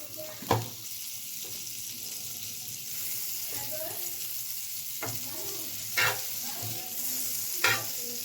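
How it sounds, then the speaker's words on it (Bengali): Butter sizzles softly in a hot pan at a steady low level, broken by a few sharp clatters of a utensil against the pan. "আমার প্যান গরম হয়ে গেছে, তো ওর মধ্যে আমি 1 চামচ মতন বাটার দিয়ে দেবো"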